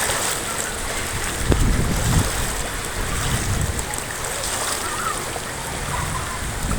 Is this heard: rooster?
no